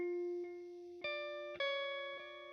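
A clean electric guitar rings out chords with a delay effect for an ambient thall tone, each strum followed by softer repeating echoes that add a bouncing rhythm.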